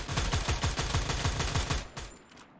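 Rapid bursts of automatic gunfire from an M249 light machine gun in the mobile battle-royale game Free Fire Max, a loud rattling volley that runs for about two seconds before tapering off.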